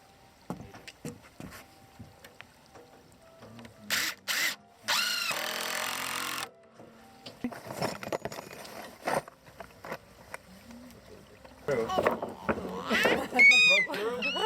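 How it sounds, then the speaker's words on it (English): A power drill drives screws into pinboard in a garden, with several short whirring bursts and one longer run between them, and people talk around the drilling. "We're tapping down screws."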